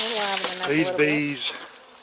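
Honey bees buzz steadily around an opened hive box during a winter-loss inspection, a close, continuous drone with a voice speaking over it.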